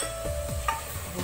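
Turmeric and chili powder frying in a pan while being stirred, a soft steady sizzle broken by a few close scraping strokes of the spoon.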